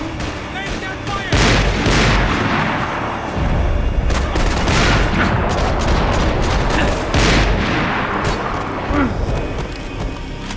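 Gunfire in the video game Max Payne 3: dense, loud, continuous bursts of automatic shots and booming blasts fill the whole stretch, with shouted voices mixed into the chaos.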